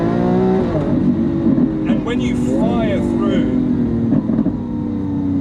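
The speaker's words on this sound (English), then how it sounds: "Those pops and bangs from the exhaust sound unbelievable." A Lamborghini Aventador S revs hard toward its roughly 8,500 RPM limit, its loud engine note climbing and falling, with sharp exhaust pops and bangs cracking between revs while someone talks over it.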